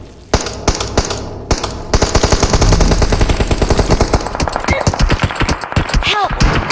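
Enemy gunfire in a battle royale video game rattles in loud, sustained automatic bursts of closely spaced shots, with short pauses between volleys and a few ringing metallic hits toward the end.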